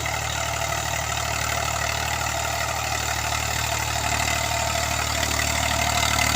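A tractor engine runs steadily and loudly close by, a constant low mechanical drone with no voices.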